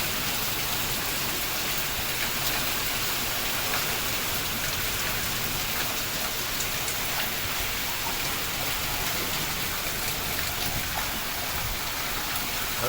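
Wind-blown heavy rain comes down on a country road as a constant, uniform roar of drops hitting surfaces, unbroken from start to finish and free of speech.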